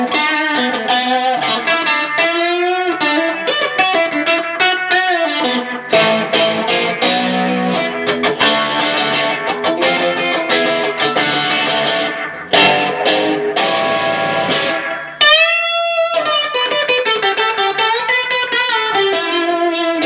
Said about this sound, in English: I'm going to stick it through some super badass distortion